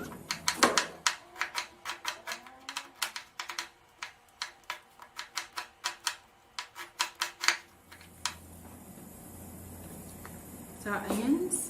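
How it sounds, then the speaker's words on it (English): A knife dices an onion on a cutting board while Hoppin John is being prepared, giving a long run of rapid, crisp, evenly spaced chops, close and distinct, then a pause and a softer shuffle at the end. "And I'm just going to dice this onion up."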